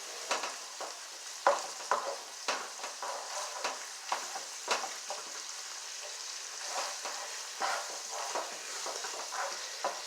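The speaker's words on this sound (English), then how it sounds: "Just browning it in the pan." Meat browns on low heat in a frying pan for burrito filling, a soft continuous sizzle broken by repeated clicks and scrapes of stirring, close and moderately quiet, with no talk.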